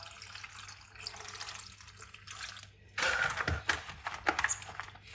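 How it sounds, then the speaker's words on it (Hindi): Fresh okra is rinsed in water in a kitchen, first as a soft steady trickle and then as louder splashing and sloshing with small knocks as the pods are washed by hand, close and with no talking. "अब यहाँ पे पानी डाल के इनको 2-3 पानी से धो लेंगे अच्छी तरह"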